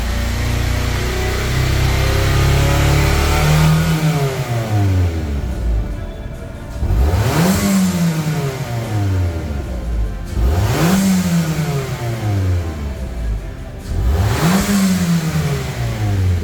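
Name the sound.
car engine revving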